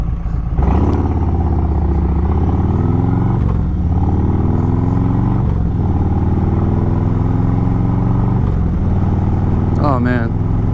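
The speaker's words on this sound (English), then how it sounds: "bike sounds so good, feels great. She's purring like a kitten" A motorcycle engine idles and revs loudly and close throughout, with steady harmonic drone and several pitch swells as the throttle opens and settles, plus a brief clatter near the end.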